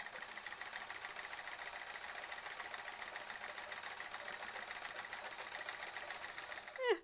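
A sewing machine quilts a sampler quilt with a continuous, even run of rapid stitching at close range, ending in a brief scrape.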